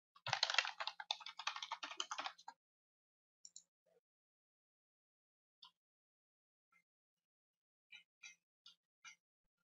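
Someone types on a computer keyboard, with a fast burst of keystrokes for about two seconds, then scattered single taps and a few final presses.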